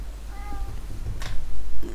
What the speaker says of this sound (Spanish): El gato ahí de fondo, mau, mau.